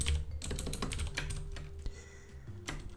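Quick, uneven typing on a computer keyboard while entering code, a close flurry of clicking keys that thins out toward the end, with no talk over it.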